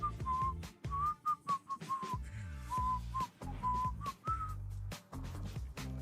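A person whistles a melodic tune in a studio setting, the clear pitched notes rising and falling in short phrases over a steady bed of background music, close and fairly loud.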